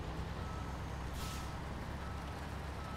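A heavy truck idles in a snowy off-road game, its low engine rumble steady beneath a repeating reversing beeper, with a short hiss of air brake partway through.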